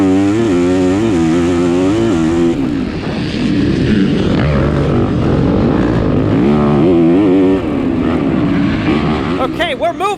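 A stock Yamaha YZ250F dirt bike engine runs at the start of a harescramble race. The close, loud buzz swells and falls as the throttle is worked, steady the whole time with no breaks.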